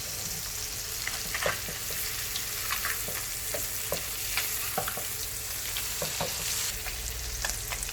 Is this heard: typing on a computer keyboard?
no